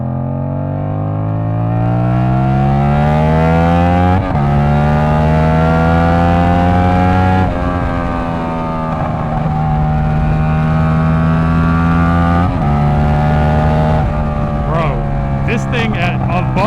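A straight-piped 450 motorcycle engine revs hard at high rpm, loud and close, holding a sustained raw scream with several sudden pitch shifts and brief drops between pulls.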